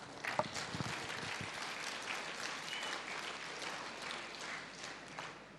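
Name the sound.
audience applause at a business meeting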